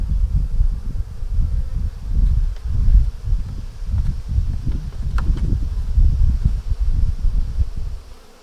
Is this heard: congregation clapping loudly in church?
no